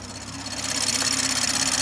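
A big-turbo, catless BMW M340i with an upgraded manifold and port injection idles while warming up, holding a steady, loud, close mechanical hum with a rapid ticking pulse that swells slightly.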